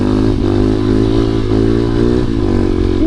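Honda CRF250L dual-sport motorcycle ridden on trails, a loud, steady engine drone close to the mic with rough clatter and a brief rising rev at the end, no talk.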